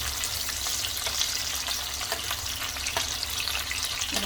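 Eggplant and potato pieces fry in oil in a non-stick pan, giving a steady close sizzle with small bursts of crackle as they are stirred and turned.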